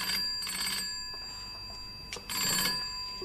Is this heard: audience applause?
no